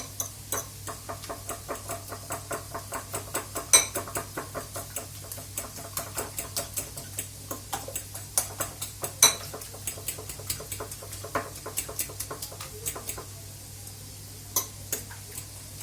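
Eggs with black pepper and chili flakes are whisked in a bowl, making quick, steady metallic clicks and taps that repeat for a long stretch, fairly faint over a low hum.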